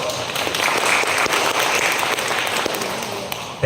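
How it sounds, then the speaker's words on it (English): An audience applauds a speaker at a Web3 Foundation event, a steady wash of many hands clapping at moderate distance, sustained for a few seconds before tapering off. "Give a round of applause for Seraya."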